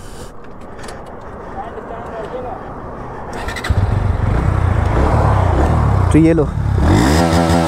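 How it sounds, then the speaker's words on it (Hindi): A 2024 Bajaj Pulsar NS160 motorcycle's exhaust note, a close, loud engine rumble that starts partway through and rises in a couple of rev sweeps toward the end, with someone talking over the quieter opening. "और आपको एक बार NS160 का भी सुना देते हैं"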